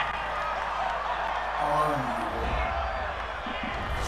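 A home crowd roars after an interception returned to the 31-yard line in an NFL game between the Saints and Vikings, a loud, steady stadium din that swells slightly midway.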